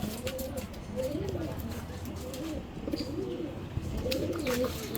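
Racing pigeons coo in repeated soft, throaty phrases close by at a loft during a 612-kilometre pigeon race, as the first birds return, with some background rustling and faint voices.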